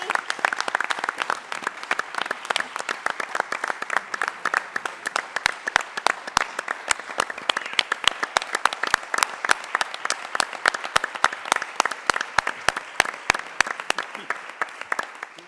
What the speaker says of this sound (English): We can't let them go without one gigantic round of applause